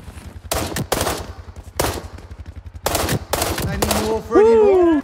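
Bursts of automatic gunfire in the shooter game World War 3, with several sharp rapid-fire volleys close by in an uneven rhythm, ending in a warbling electronic tone.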